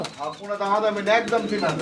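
American lakha pigeons coo softly in the background while someone talks over them for the whole stretch, the birds partly masked by the voice.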